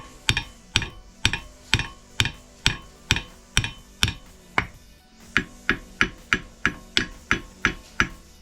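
Hammer tapping on the shaft of a boat's anchor windlass being restored, a rapid, steady series of about twenty sharp metallic taps, close and clear, with a short pause midway.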